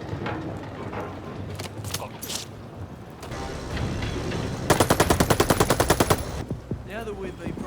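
World War II video game combat, with scattered gunshots and thuds under a spoken voice, then a loud, rapid machine-gun burst of about twenty evenly spaced rounds, followed by more talking.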